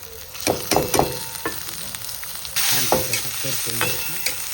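Cumin seeds and chilies fry in hot oil in a kadhai, a close crackling sizzle with repeated spoon scrapes and clinks against the pan, and a louder hiss surging midway.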